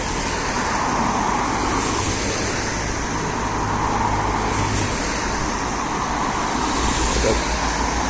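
Steady stream of cars passing through road works on an Irish road, with lanes closed off by barricades; a continuous, fairly loud roadway rumble and tyre hiss with no pauses.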